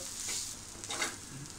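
Dry coconut is roasted in a pan, a soft close sizzle with faint scraping of a stirring spoon over a quiet background, no talk.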